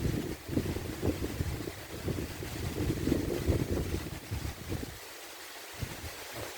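Steady heavy rain pours down outdoors with a constant hiss and rumbling strong wind gusts, loud and close throughout.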